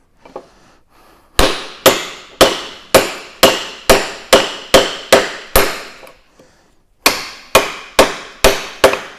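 A wooden-handled hammer strikes the engine of a 1968 Fiat 500 in a steady series of sharp, ringing metal taps, about a dozen in a row, a brief pause, then several more.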